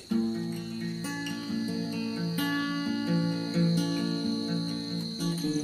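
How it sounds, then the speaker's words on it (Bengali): Crickets chirp steadily in a dense, continuous chorus, with a shrill high tone layered over other sustained tonal sounds throughout. "ঝিঝি পোকার ডাকের সাথে"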